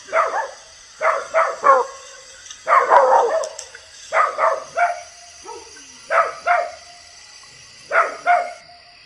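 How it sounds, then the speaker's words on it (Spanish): Dogs bark in the distance toward coffee fields at night, coming in short clustered bursts of two or three barks separated by quiet gaps, faint and echoing over a thin high insect hum. "Escuchen los perros."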